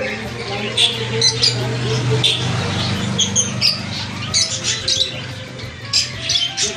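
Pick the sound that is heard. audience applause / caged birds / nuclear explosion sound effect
caged birds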